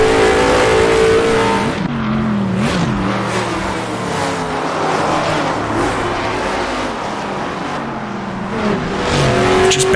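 Older sports cars, including a Ferrari 250 GTO from the Legends pack, race in the Assetto Corsa driving game, with engines revving and changing pitch as gears shift, steady and loud throughout, and brief tire squeal.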